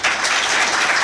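Live podcast audience clapping in a steady, dense burst of applause that fills the whole moment, loud and close, with no voices over it.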